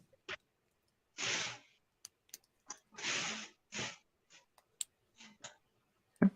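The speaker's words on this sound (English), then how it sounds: "I far was as like typing notes." Scattered keystrokes on a computer keyboard while notes are typed, quiet and close, coming in short irregular bursts of rapid taps with gaps of silence between them.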